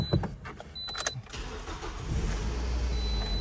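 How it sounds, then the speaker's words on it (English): A 2009 Toyota Corolla XRS with a 5-speed is started: a few clicks and a brief cranking whir, then the engine catches and settles into a low, steady idle close by, with a faint thin electronic tone. "I'll go ahead and fire it up first so you can hear it run"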